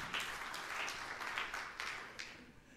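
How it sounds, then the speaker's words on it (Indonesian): Soft, distant applause from a church congregation rolls on for a few seconds, fairly faint and gradually fading. "Tepuk tangan yang meriah untuk kemuliaan nama Tuhan."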